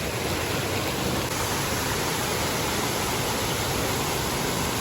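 Loud, continuous rush of a flowing water stream, steady and close throughout, with no other sounds standing out.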